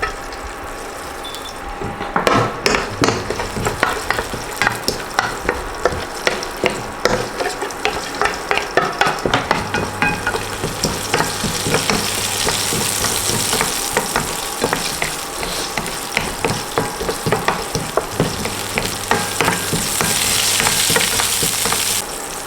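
Green chillies and urad dal sizzle and fry in oil in a pan, with a spoon scraping and stirring in a steady rhythm throughout.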